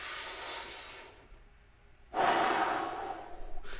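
Close, forceful breathing from a guided breathing exercise: a long audible exhale fades to quiet, then a sharp deep inhale rushes in loudly and holds, with another breath starting at the end.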